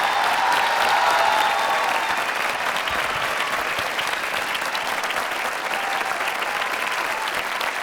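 A crowd claps steadily throughout, a dense sustained round of applause that fades slightly toward the end, at a live poetry recital (mushaira).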